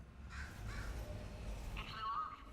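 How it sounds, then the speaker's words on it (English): A crow caws in Portal 2, two rough calls early, then a louder, longer caw near the end over a low rumbling background. "Bird, kill it."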